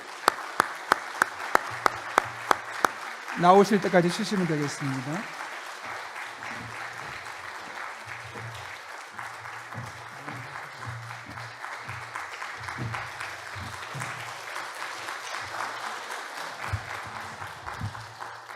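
A church congregation at Yongin Youngnak Church applauds on Easter Sunday to welcome a guest, starting with brisk rhythmic clapping that carries on steadily throughout, while someone speaks briefly over it near the start.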